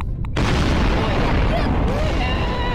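A bomb blows up in the sandbox game Garry's Mod, and a loud boom rolls out after a short quiet start, with a long rumbling tail. Game sounds and faint effects ring under it.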